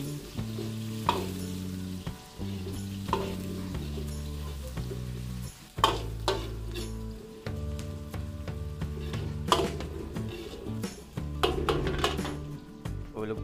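Garlic and onion sauté in a pan for a Filipino dish, a loud continuous sizzle with stirring and sharp clinks of a utensil against the pan, over a steady background.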